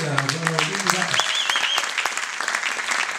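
A festival closing-ceremony audience applauds Dominique Ollier with loud, dense, steady clapping throughout, while a voice and brief tones sound over the start.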